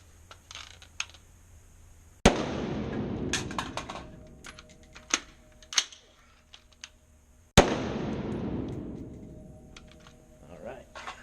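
Two loud rifle shots in a dot torture drill, the first shot followed by a magazine reload and then the second, each crack trailing into a decaying echo, with metallic handling clicks and rattles between them.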